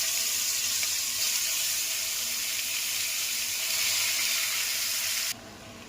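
Taro leaves dropped into hot oil tempered with cumin and green chilli give a steady, close hiss of frying that runs unbroken for several seconds, then drops abruptly to a quieter simmer near the end.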